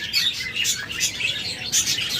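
A pair of lovebirds kept for sale chirps in quick, bright bursts, fairly close and steady throughout, with no talking.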